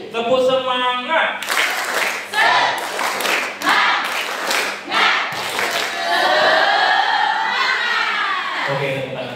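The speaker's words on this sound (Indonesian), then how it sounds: "Tepuk semangat." Students at a leadership training session clap a rhythmic group pattern together, with sharp bursts of unison claps in the middle and loud shouting and chanting voices before and after.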